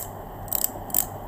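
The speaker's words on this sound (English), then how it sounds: "It's a ratchet type, so it ratchets." A ratchet-type pass-through crimping tool for terminating network cable gives two short bursts of close, crisp ratcheting clicks, each a quick rattle of several clicks, with quiet in between.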